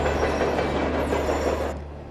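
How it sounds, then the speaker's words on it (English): A runaway freight train speeds along the rails at over 75 miles an hour, a dense rumbling roar of wheels and cars with faint clatter and a thin high squeal, steady before easing slightly at the end. "the train continues to speed in excess of 75 miles an hour"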